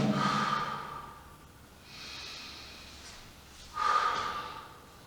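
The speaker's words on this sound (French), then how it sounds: "Faites une ou deux respirations." Deep exhalations and breaths between sets of an abdominal exercise session, two strong breathy bursts separated by quieter airy breathing, close and fairly soft with no talk.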